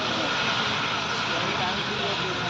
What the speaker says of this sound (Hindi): युद्ध विमान वाला होगा